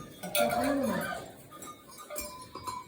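Cows in a barn moo with a long drawn-out low call, their cowbells clanking and jingling around it, close by, with faint voices in the background.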